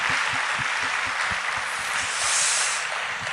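A church congregation claps to welcome four missionaries during a Sunday service, a dense and sustained wash of applause filling the room at an even level.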